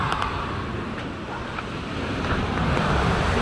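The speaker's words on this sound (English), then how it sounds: "there is where the sea comes up over the rock" Sea waves surging up over coastal rocks, a steady close wash of churning water and spray mixed with wind noise, swelling slightly toward the end.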